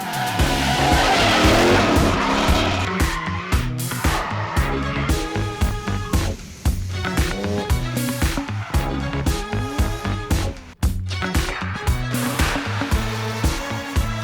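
Loud, sustained engine roar with screeching tires skidding as a car drifts at Fuji, revving rising and falling continuously throughout.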